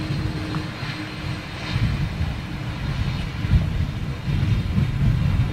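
A big jet airliner with large winglets passes overhead as a loud, broad, rumbling engine roar mixed with wind noise, swelling and holding steady throughout.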